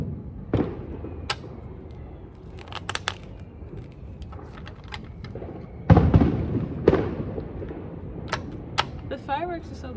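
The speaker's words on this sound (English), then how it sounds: "The fireworks are so beautiful." Fireworks burst at a distance in scattered sharp cracks and thuds, a heavier cluster of booms midway and faint crackles and whistles between them, with some soft talk in the background.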